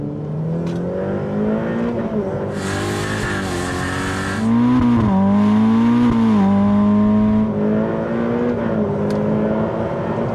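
A Ferrari F8 Tributo V8 accelerating hard in second gear, a loud close engine note rising in pitch and revs, with a brief hiss and steady roar throughout.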